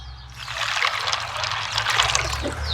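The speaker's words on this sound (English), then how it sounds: "what I usually do is I rinse the almonds twice" Almonds being rinsed in water in a bowl, giving a steady close trickle and splash of running liquid that swells and eases over a few seconds, with no talking.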